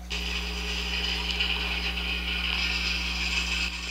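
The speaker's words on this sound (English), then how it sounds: "It literally sounded like all I did was dump like a whole box of nails in the washer and just turned it on." A washing machine rattles loudly and continuously, as if a box of nails were tumbling in its drum: a dense, steady metallic clatter that holds for several seconds before cutting off near the end.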